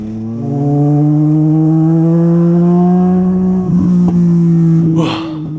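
Race car engine in the Racing is Life video game, a loud steady high-pitched drone holding near one pitch, briefly dipping with a gearshift before fading out with a short tire scuff.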